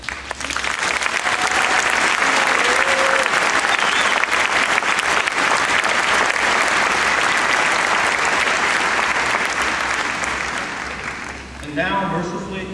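Sustained, loud applause from a large audience at a 2014 high school convocation for the graduating class, steady for about ten seconds before tapering off near the end.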